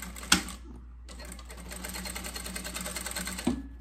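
A sewing machine runs a steady line of stitches at 3.5 stitch length while closing an Easter-themed zippered bag, with a sharp click at the start and another near the end.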